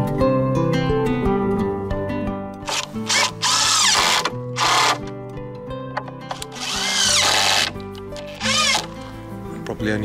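A power drill bores into warped wood while building a shade house outdoors, with short bursts of whirring motor that start, stop and rev up again, close and loud.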